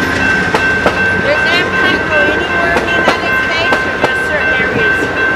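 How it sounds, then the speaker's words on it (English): Amtrak Southwest Chief passenger train rolling past nearby, a steady loud rumble with rhythmic clicking wheel beats and a sustained high tone throughout, with faint voices mixed in. "Oh, Amtrak. The Chief, that may end here soon."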